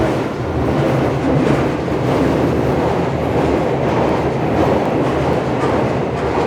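A London Underground Victoria line train at Warren Street station rumbles loudly and steadily, a dense roar of wheels on track with a faint rhythmic clatter throughout.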